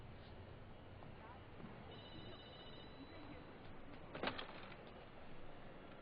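A telephone rings faintly in an indoor setting, a short electronic trill followed by a brief louder burst, partly under voices and background murmur.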